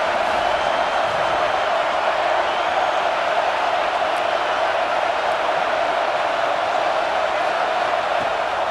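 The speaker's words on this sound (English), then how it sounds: "Third down play in the red zone, and this crowd is at fever pitch." A football stadium crowd roars during a red-zone third-down play, a dense, steady wall of cheering that holds at full volume with no break, close and loud throughout.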